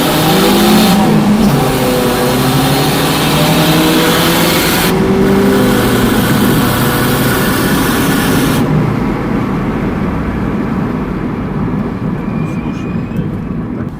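A Hyundai Solaris and a Mercedes W202 2.3 accelerate hard side by side in a street race, with loud engine roar and rising revs that fade slightly toward the end.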